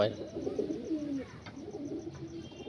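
Andhra fullsira pigeons, young birds of this fancy breed, cooing in soft, low, rolling phrases that run steadily across the moment, close by with a faint background hum.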